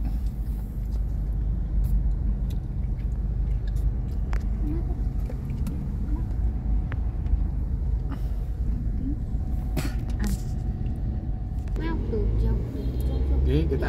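Steady low rumble of slow, congested road traffic with cars and buses around a vehicle heading toward Kiara Artha Park, with people talking throughout over the continuous engine drone.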